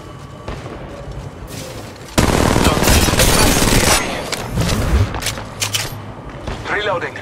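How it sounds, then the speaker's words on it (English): Gunfire in the Apex Legends video game: a loud, sustained burst of rapid automatic fire lasting a couple of seconds, followed by scattered shots and in-game callout voices over the action. "Contact. Opening fire on the enemy."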